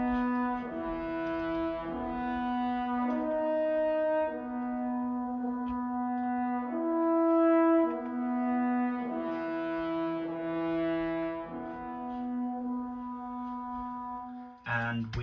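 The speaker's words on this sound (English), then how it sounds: "So we have a new theme in the French horns, also very, very calm, majestic." French horns carry a slow, calm, majestic orchestral theme in long sustained notes that shift gradually, soft and smooth throughout, with a brief louder burst right at the end.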